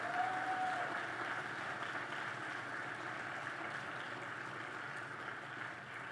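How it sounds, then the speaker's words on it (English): Steady applause from a large commencement audience at a college graduation ceremony, sustained evenly throughout at a moderate distance, with a faint voice briefly audible at the start. "give them a round of applause,"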